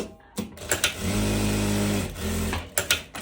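A sewing machine runs a straight stitch closing the side seam of dress ruffles, a steady whirring burst of about a second and a half, a short pause, then a second shorter run, with fabric handling clicks before and after.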